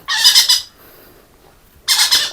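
A young, colourful rainbow lorikeet parrot with new feathers coming in gives two loud, harsh squawk bursts close by, with a short quiet gap between them.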